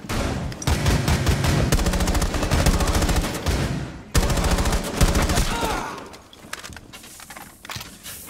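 Rapid automatic gunfire from teammates in the tactical shooter Rainbow Six Siege, loud and dense in sustained bursts that pause briefly midway before resuming and trailing off into quieter in-game noise.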